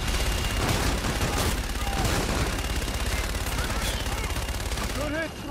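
Aircraft cannon strafing run in Call of Duty: Infinite Warfare, a dense sustained roar of rapid gunfire and impacts filling the whole stretch, loud and unbroken, with faint radio-style voices mixed in.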